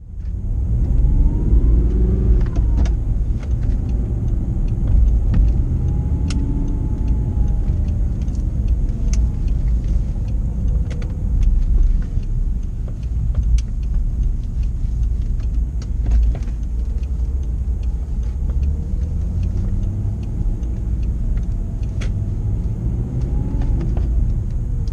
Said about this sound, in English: let's get this car down to Birmingham Audi for its service